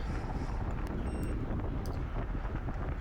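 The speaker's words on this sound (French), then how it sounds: "Le vent vient un petit peu de la droite" Wind roars across the microphone during an amateur UFOLEP bicycle road race at Caillouet-Orgeville, in a loud, constant broadband rush with no talking.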